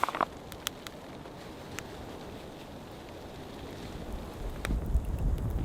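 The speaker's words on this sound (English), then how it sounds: "It is, without a doubt, getting really, really windy." Strong wind sweeps across a remote snowy mountain camp during a winter storm, a steady broadband roar that builds into heavier gusts and buffeting toward the end.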